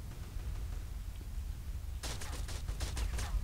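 Gunfire in Grand Theft Auto San Andreas: after a stretch of low background rumble, a rapid burst of repeated shots breaks out and keeps going, fairly loud and close, with no talking.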